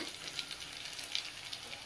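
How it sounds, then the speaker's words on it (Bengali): Vegetables frying in a pan, a soft, even sizzle with light crackles, fairly quiet and with no one speaking. "সবজিটা একটু এপিট ওপিট করে ভাজা হয়ে গেছে"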